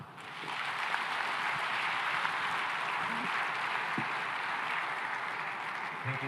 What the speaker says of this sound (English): One more time, a big round of applause for President Ruto